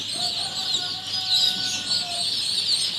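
Local desi chicken chicks at a poultry farm give off a continuous, busy chorus of high peeping and cheeping, heard fairly close and steady with no talk over it.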